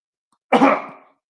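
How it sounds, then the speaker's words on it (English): A single close, sharp cough, muffled as if into an elbow, fading quickly into silence. "Elbow cough."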